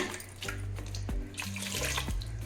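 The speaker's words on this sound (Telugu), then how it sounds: "కొంచెం నీళ్ళు వేసి కూడా కడిగి వచ్చాను" Water splashes and pours briefly as a vessel is rinsed out while preparing a traditional rice, coconut and cardamom sweet, a close run of soft gushes with faint knocks of the container.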